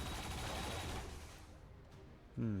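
Gunfire aimed at an alien turret in the video game XCOM 2: a rapid burst of shots rattling for about a second, then trailing off before a short electronic tone at the end.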